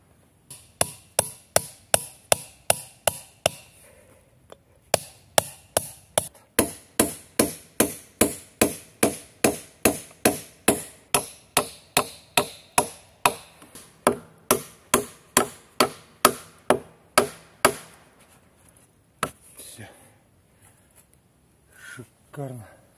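A hammer drives a nail into wood while the roof of a dugout is reinforced around a stove pipe. Dozens of sharp, evenly paced knocks ring out close by, pause briefly, then resume before tapering off with a few scattered taps.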